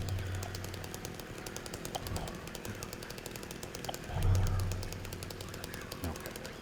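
Chainsaw revving in the Silent Hill 2 Remake video game, a rough buzzing drone with rapid rattling pulses and a louder surge midway, heard beneath someone talking over the gameplay.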